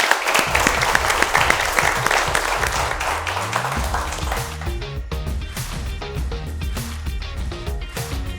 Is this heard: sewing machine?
no